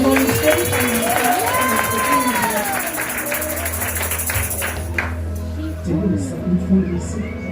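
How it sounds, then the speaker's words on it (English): Rhythmic hand clapping from a church congregation, busy and fairly close, with voices mixed in during the first five seconds, then dropping to quieter murmuring and brief sounds. "Let's clap hands for the Holy Spirit."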